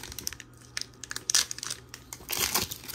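Disney Lorcana Chapter 1 booster pack wrappers torn open by hand, a run of crisp crinkling rips and crumples in irregular bursts, close and fairly loud with no talking.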